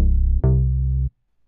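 A hollow bass patch from the Zebra CM synth plugin plays with sustain at full. A low buzzy note gives way to a second sustained note with a bright attack, which holds steady and then cuts off abruptly into silence.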